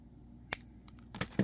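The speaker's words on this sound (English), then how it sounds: "Let me just snip a little bit off." Scissors snipping off excess beading wire, a single sharp close snip followed by a couple of smaller clicks and handling sounds in a quiet room.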